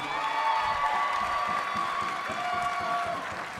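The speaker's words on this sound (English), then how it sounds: "let's give them a round of applause" An arena crowd at the ACL World Championships cornhole event applauds and cheers in a sustained, dense wash of clapping, with music and voices running beneath it.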